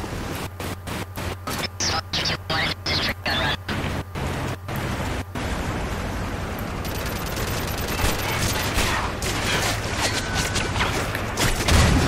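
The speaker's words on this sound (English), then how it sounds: "Friendly strafe run incoming." A strafe run in Modern Warfare 3 multiplayer, heard as rapid bursts of rhythmic gunfire over a few seconds, then a dense, noisy wash of continuous firing and explosions.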